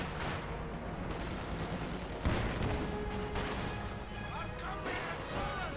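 Artillery bombardment in the strategy game Company of Heroes 2 rumbles and cracks continuously through a dense battle soundscape, with a commentator talking over the barrage.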